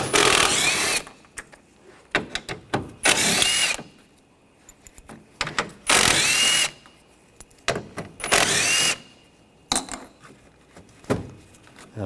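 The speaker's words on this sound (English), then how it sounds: "And the bolts, we're going to use a 10mm socket." Ratcheting 10mm socket tool removing headlight bolts on a Buick Encore, several short bursts of close whirring tool noise separated by quiet gaps, with small clicks and handling sounds between.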